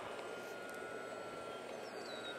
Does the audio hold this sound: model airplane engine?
yes